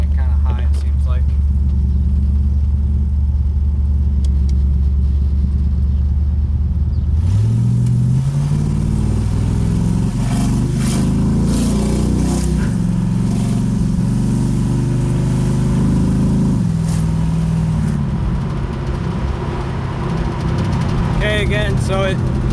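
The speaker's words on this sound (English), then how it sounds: "It's idling kind of high, it seems like." A 1980 Pontiac Firebird engine idles loudly, then revs up and holds at a raised, wavering pitch before settling, heard close up with someone talking at times.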